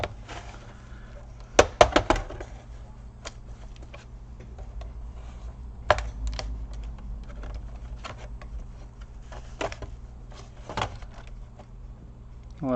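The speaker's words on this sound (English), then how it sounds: "Start separating the plastic." The plastic case of an Acer Aspire 5750G laptop is pried apart, giving close, faint clicks, snaps and creaks at irregular intervals with a brief cluster of sharper cracks early on.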